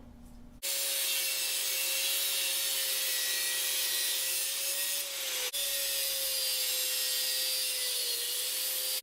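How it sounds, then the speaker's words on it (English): A steady, loud grinding whine of a cutting tool biting through valve springs on a Flathead V8 engine, running continuously with a brief dip midway before resuming. "So I'm going to cut these springs out of here"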